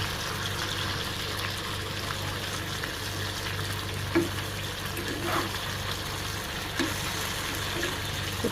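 Fresh native shing fish frying lightly in oil in a pan makes a steady, even sizzle up close, with soft bubbling and a few brief spatters and pan clicks.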